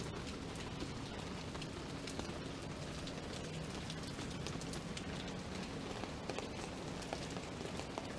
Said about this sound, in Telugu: హైదరాబాద్ చుట్టుపక్కల కూడా వర్షం పడుతున్నట్టుగా ఉంది